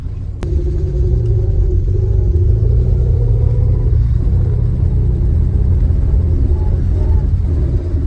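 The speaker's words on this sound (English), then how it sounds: "we're just about to head off with the vintage convoy. The car's heading off down in front." Vintage cars in a convoy pull away on a Tuscan outing near Florence, a steady low engine rumble building into a continuous drone that holds loud and close throughout, with no voices over it.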